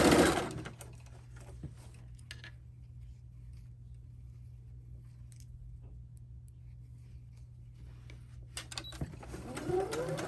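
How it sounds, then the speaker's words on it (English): Sewing machine running a long straight-stitch topstitch along a skirt hem, a steady continuous whirring hum for several seconds, close and alone, framed by brief handling noises at the start and end. "sew it down by top stitching with a straight stitch"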